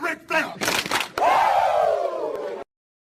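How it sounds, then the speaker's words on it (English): Two sharp claps ring out, then a loud, long, falling Ric Flair-style "woooo" shout that fades out. "I give you 2 claps and a Ric Flair."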